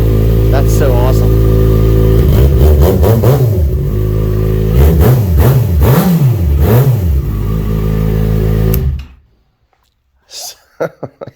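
A 2009 Yamaha FZ6R sports motorcycle engine revs hard several times, pitch surging up and down in close bursts, then cuts off abruptly, leaving a few faint blips.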